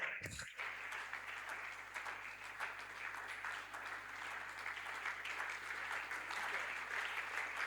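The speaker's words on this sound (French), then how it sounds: "Clap for the Lord." A church congregation at an evening worship service claps steadily after a brief pause at the start, a full, continuous roar of many hands that carries on without voices.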